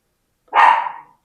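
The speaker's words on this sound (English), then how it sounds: "Oh my God, my dog lately is so boisterous." Millie, a pet dog, lets out a single loud, sharp bark nearby, one short burst that cuts through an otherwise silent kitchen.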